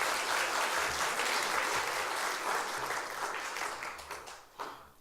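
A church congregation applauds during an afternoon praise service, with sustained, full applause that slowly thins and dies away near the end.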